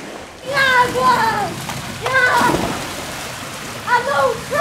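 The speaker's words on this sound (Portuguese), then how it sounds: "Água!" Water splashes and splatters in a Nintendo Switch game, a busy wash of droplet noise heard beneath excited voices shouting.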